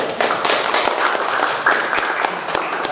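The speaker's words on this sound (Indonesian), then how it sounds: "Kita beri tepuk tangan." Steady, dense applause from a classroom audience after a student group's presentation, many hands clapping continuously and fairly close throughout.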